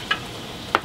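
Meat frying in a pan gives a low, steady sizzle, broken by two brief, sharp clinks of utensils on the pan.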